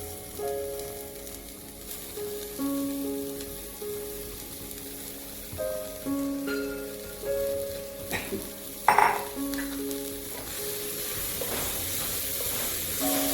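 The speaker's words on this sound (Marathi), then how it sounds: "ह्याच्यामध्ये ही बारीक कट करून घेतलेला कोबी घालायचा आहे." Finely chopped cabbage frying in a pan for a spicy dry cabbage dish, giving a soft, continuous sizzle with occasional stirring scrapes and a brief louder clatter partway through. No one speaks.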